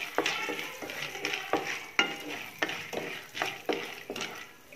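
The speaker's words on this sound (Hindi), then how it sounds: "तो इसको थोड़ा सा हम लोग सेक लेंगे सबसे पहले मक्के के दाने को।" Buttered corn kernels roast in a wok over a low flame for popcorn, with a rhythmic series of scraping stirs and a light sizzle, close and fairly quiet with no talking.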